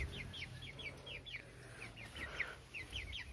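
A hen and rooster in a small backyard pen cluck softly in a quick repeated series of short notes, fairly faint and close, with a low rumbling background.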